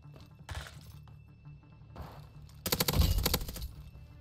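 Gunfire strikes the player in Call of Duty Vanguard: scattered impacts early, then a dense, loud rapid burst of shots and shattering hits near the end.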